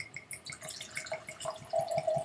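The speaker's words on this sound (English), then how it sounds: "That's how much I usually pour, just to the very top of these ribs on the glass." Ungava Canadian Premium Gin poured into a ribbed glass, a short close trickle with small drips and a rising liquid tone as the glass fills, fairly quiet.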